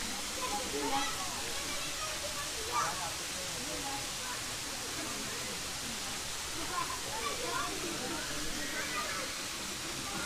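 Steady broadband rush of Roro Kuning, a short waterfall with clear water in Nganjuk, heard as a constant wash at moderate distance with occasional faint voices.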